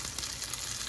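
A beef steak fries in hot oil in a pan over a low to medium flame, putting out a steady close sizzle with crackling spits and no voices over it.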